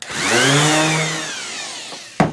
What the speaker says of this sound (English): So I'll have to do some sanding.